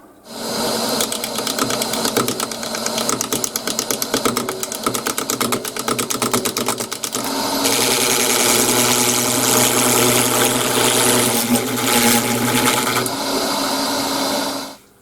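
A lathe facing off acrylic with a carbide tool, a loud steady motor hum with rapid chattering cut that brightens into a harsher hiss midway, then eases near the end before stopping.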